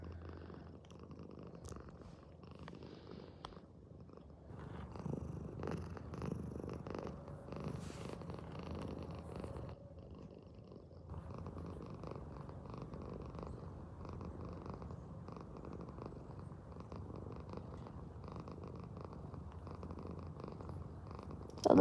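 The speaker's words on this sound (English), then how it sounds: "Purr, purr, purr, purr," A pet cat purrs steadily in someone's lap while being stroked, a soft, continuous low rumble that swells slightly midway and stays close and intimate throughout.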